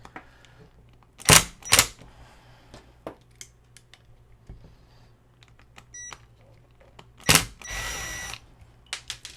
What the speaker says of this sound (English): How about with a Phillips and an impact?